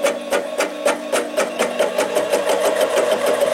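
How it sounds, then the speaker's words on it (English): A 7x10 Harbor Freight mini lathe cutting a 304 stainless bolt, its motor humming steadily under a fast, regular ticking pulse from the power feed as the cut advances. "So if I go here and take a small cut out of here, here's the wheel automatically advancing."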